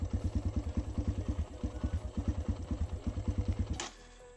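A 2018 Kawasaki KLX140L pit bike engine runs with a rapid, even thumping putter, close and steady, then cuts off suddenly near the end with a brief clatter.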